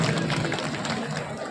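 Dense audience clapping at an outdoor prize distribution event in Bhubaneswar, honouring the SK dance group; a steady, continuous wash of many hands with faint crowd murmur underneath.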